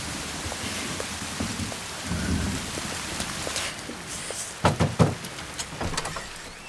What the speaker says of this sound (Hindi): लगता है बारिश नहीं रुकने वाली।